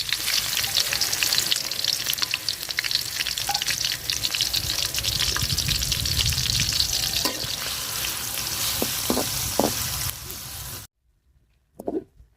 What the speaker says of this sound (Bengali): তো তেল গরম হয়ে গেছে, চিংড়ি মাছগুলা দিয়ে দিব। হালকা ভাজা নিব আমি চিংড়ি মাছগুলা।